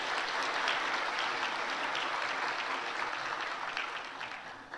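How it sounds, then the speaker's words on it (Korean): A church congregation applauds during a Korean worship service, steady dense clapping from many hands that slowly fades toward the end. "여러분들 격려의 박수 한번 부탁하겠습니다"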